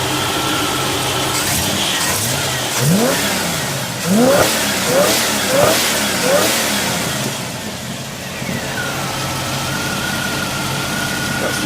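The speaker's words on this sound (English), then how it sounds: "That's the engine." A car engine revs several times in quick bursts, each rise and fall distinct, then settles back to a steady idle; close and fairly loud.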